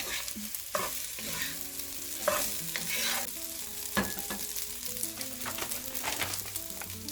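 A spatula scrapes and stirs salted garlic rice in a frying pan, a soft sizzle under repeated irregular scraping strokes with a few sharper knocks against the pan.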